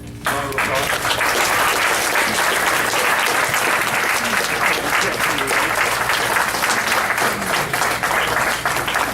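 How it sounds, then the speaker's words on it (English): Sustained applause from an audience at a school board candidates forum, steady and dense for the whole stretch, with a few voices mixed in. "Round of applause."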